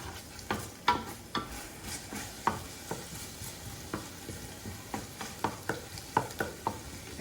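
Garlic and fresh oregano sizzle gently in oil in a pan, punctuated by a regular rhythm of soft scraping knocks as a utensil stirs them; quiet and close, with no talking.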